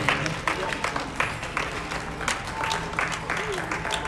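Spectators at a jousting tournament clap and cheer in scattered bursts, with a voice talking over the crowd noise.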